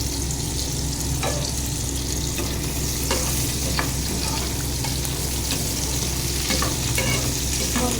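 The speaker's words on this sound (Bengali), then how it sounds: "একদম গ্যাসের একদম কম করে একটু সময় নিয়ে আলু পটলটা ভাজতে হবে" Potato and pointed gourd frying on a low flame, a steady close sizzle with intermittent stirring scrapes and light clinks, continuous with no talk.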